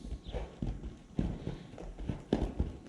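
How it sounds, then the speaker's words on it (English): A Walking Horse mare's hooves clip-clopping in a steady walking gait, a regular rhythm of near, distinct hoofbeats on firm ground. "This horse is so nicely gaited."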